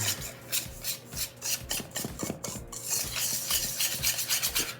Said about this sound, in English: So I'm just gonna whisk this together just to combine everything.